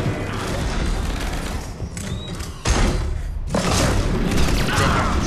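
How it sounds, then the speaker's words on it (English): Heavy grenade explosions and thuds in the Mass Effect 3 multiplayer shooter, a loud boom rolling over dense combat noise, then another sharp blast a few seconds later. "Grenade, grenade."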